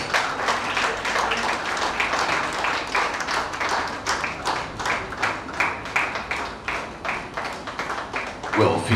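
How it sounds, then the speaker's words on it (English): Applause from an audience at a media conference, steady and dense for about nine seconds with sharp clap transients throughout, loud and fairly close, with some voices mixed in beneath it. "Please, let's give him a round of applause."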